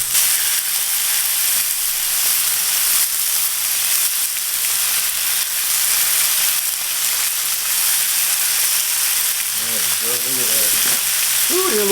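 Marinated, pounded chicken pieces sizzle steadily on a hot hibachi griddle, a loud continuous frying hiss that fills the whole stretch, with a brief voice near the end.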